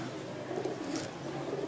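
Soft, low cooing from a Sialkoti pigeon paired with a female, a quiet continuous murmur over faint background noise with no talk, ending in a brief louder bump.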